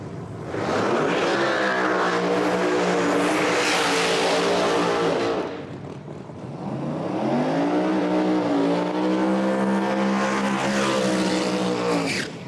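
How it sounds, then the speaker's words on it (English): No-prep drag race cars, including Jeff Lutz's, making a pass down the track at a live racing event, with a loud sustained engine roar that dips briefly around the midpoint and then surges again at full power. "Jeff Lutz right down through there. Nice pass for Jeff."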